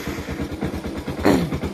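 A motorcycle engine runs to warm up, giving a close, even chugging pulse at a steady idle rhythm with a slight swell near the end.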